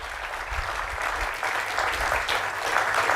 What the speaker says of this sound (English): Clap for them while they come in.